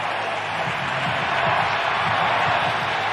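A football stadium crowd roars in a broad, sustained wash of cheering after a 49ers fumble recovery, steady and far-reaching with a low rhythmic thrum beneath, no clear voices standing out.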